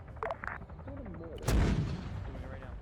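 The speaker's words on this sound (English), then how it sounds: "That's a mortar." Mortar fire in the video game Arma 3: a single heavy, booming launch bursts out midway and decays slowly, preceded by faint radio chatter and light background sounds.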